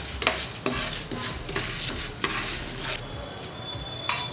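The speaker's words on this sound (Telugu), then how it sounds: "మిరపగుళ్ళు వేసుకొని కాస్త స్టవ్ని మీడియం ఫ్లేమ్లో పెట్టుకొని ఫ్రై చేసుకుందాం." Dried red chillies fry in a pan on a medium flame, a steady sizzle broken by several distinct scraping stirs and clinks of a spoon against the pan, close and fairly loud.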